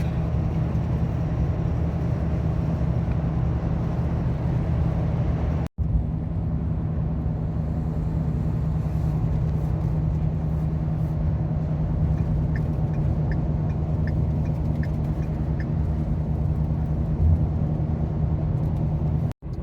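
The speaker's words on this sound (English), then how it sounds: "the Jake brake, which is considered an engine retarder" A truck towing a trailer descends a hill with its Jake brake engaged as an engine retarder, giving a continuous loud, low droning rumble that holds steady throughout, with a brief dropout partway.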